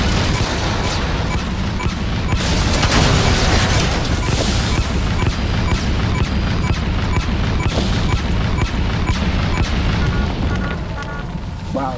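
Grenade explosions in Metal Gear Solid V fill the mix with dense, loud booms and crackling bursts, one blast running into the next with a roaring rumble that hardly lets up for the whole stretch.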